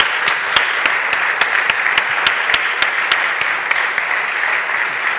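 Audience applause at a presentation of a sociodemographic study on culture, a dense, steady crowd of clapping hands at close range that continues evenly throughout with no one speaking.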